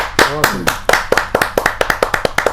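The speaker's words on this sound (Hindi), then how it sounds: "जोरदार तालियों के साथ हम उनका स्वागत करें" A poetry gathering's audience claps in time for a humorous poet's performance. A brief voice opens the clip, then the claps settle into a loud, regular rhythmic beat, roughly five or six sharp claps per second.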